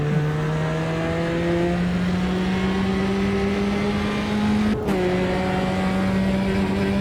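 A race car holds a steady engine drone while driving on a track, with one brief drop as the driver shifts or eases off, then steady again, close and continuous with no talk.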